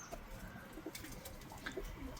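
Arab kırkanat pigeons cooing softly at a distance, low throaty calls repeating irregularly over a faint outdoor hum, no voices.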